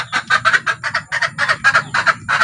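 Mestiza hens clucking, a near, loud series of short rhythmic squawking calls repeating about every quarter second over faint background noise.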